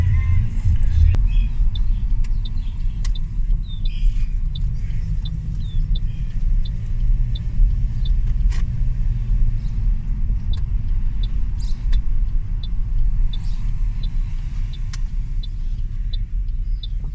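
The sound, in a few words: car driving around a neighborhood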